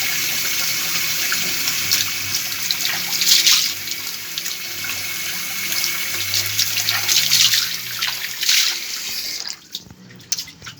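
Hands washed under a running water tap at a sink, a loud continuous gush with splashes and drips, then the flow cuts off near the end, leaving a few faint drips.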